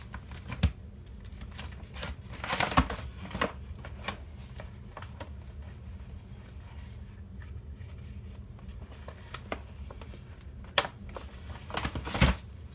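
Scrap paper is cut into a square, giving a run of small crisp snips and clicks, close and fairly quiet, with a few sharper ticks near the end and no talking.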